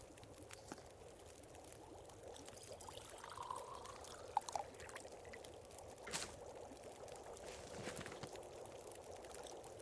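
Tea poured into a cup in The Undertaker video game, a quiet, steady liquid stream running for several seconds with faint clinks, no voices.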